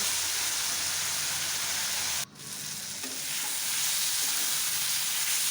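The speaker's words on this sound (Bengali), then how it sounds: "এখন মশলার সাথে ভালো করে টমেটো আলুটা কষিয়ে নেব" Green tomato and quartered potato sautéing with spices in a pan for a shing fish curry, a steady close sizzle with a brief dip in the middle, no voices.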